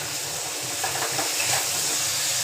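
Vegetables seasoned with salt and turmeric are stirred in a cooking pan, giving a steady close sizzling hiss with soft scraping underneath.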